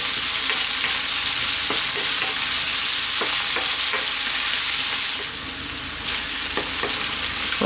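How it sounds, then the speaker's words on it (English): Onions, whole seeds and salt fry over lively heat for a spicy Malvani chicken coconut curry, making a loud, dense sizzle with occasional spoon clicks. "our onions are in, and a little bit of salt. I'm going to cook this for about 4 to 5 minutes on a fairly lively heat"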